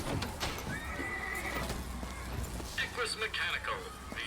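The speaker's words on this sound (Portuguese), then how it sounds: "Ah, os cavalos mecânicos." Mechanical horses in the BioShock Infinite video game neigh loudly and trot with clip-clop hooves, whinnies rising twice over the steady hoofbeats while someone talks over them.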